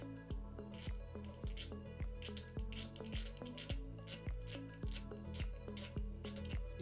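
Repeated rhythmic scraping strokes of a blade shaving plastic down on a Takom T-54B 1/35 scale model part, close and crisp, about two strokes per second.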